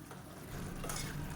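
Madurai-style mutton sukka masala sizzles and starts to boil in a pan, a soft, steady bubbling hiss heard close and quiet for a brief moment, with no voices.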